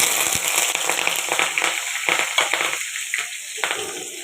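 Chopped onion, green chillies and curry leaves fry in hot oil with mustard seeds in a pan, a close, continuous sizzle and crackle with bursts of stirring.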